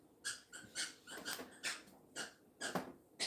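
A dog named Gracie plays with a squeaky toy, giving repeated quick squeaks in an irregular rhythm, faint and close by.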